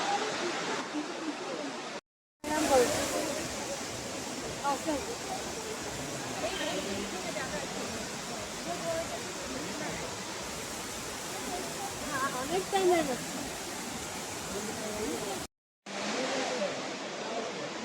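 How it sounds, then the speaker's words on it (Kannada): Water crashes down at Elephant Falls, a three-tiered waterfall in Shillong, Meghalaya, in a continuous roaring rush heard close up, with faint voices underneath and two brief silent cuts. "ನೀರು ಬೀಳೋ ಸೌಂಡ್ ನೋಡಿ ಎಷ್ಟು ಚೆನ್ನಾಗಿದೆ"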